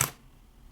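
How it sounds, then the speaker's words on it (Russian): Shutter of a Canon 50D DSLR camera firing: two crisp mechanical clicks about 0.7 seconds apart, close and clear with near silence between them. "Больше мне нравится звук затвора почему-то на 50D."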